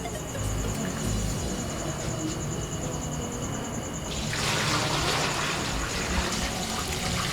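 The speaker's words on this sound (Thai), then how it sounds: "เสียงน้ำไม่ใช่เอฟเฟกต์นะครับ น้ำจริงนะ น้ำจริง" Real tap water running steadily while a vintage shirt is rinsed, a continuous close splashing flow that gets louder and fuller partway through, with no talk.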